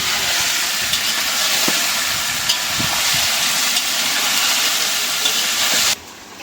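Potatoes and onions fry in a pan, making a loud, steady hissing sizzle with a few small pops that stops abruptly near the end.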